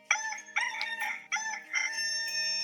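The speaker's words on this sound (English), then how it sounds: "a rooster crowed, and Peter realized what he had done" A rooster crows loudly in a clear, repeated cock-a-doodle-doo, with several harmonic calls following one another up close and no talk over it.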